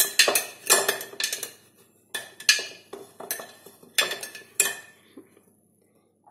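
Raw mango pieces being stirred with turmeric and salt in a metal pot during pickle making, heard as bursts of clattering spoon-against-pot scraping and clinks in uneven groups, close and fairly loud with short pauses and no talk.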